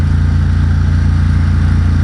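A 2021 Ducati XDiavel Dark fitted with a Vandemon exhaust and dB killers revs hard, a loud, continuous deep engine roar with steady low rumble and no breaks, close to the bike.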